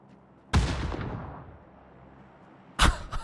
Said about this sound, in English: he shot out a tyre on this as well